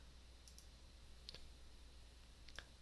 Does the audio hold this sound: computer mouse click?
yes